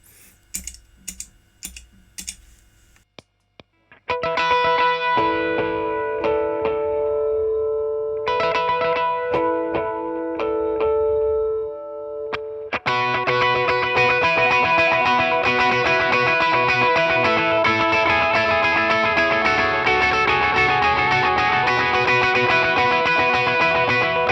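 Electric guitar notes ring out with a rhythmic dotted-eighth delay, U2-style, from a Line 6 HX Stomp in the amp's effects loop, repeating each phrase, loud and layered after a few sharp clicks at the start; no talking.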